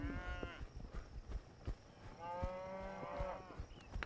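Cattle moo repeatedly as a rider on horseback drives them uphill, with two long, loud bellowing calls standing out over scattered lowing and outdoor movement.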